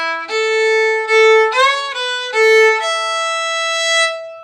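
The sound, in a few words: bowed string instrument playing a jig phrase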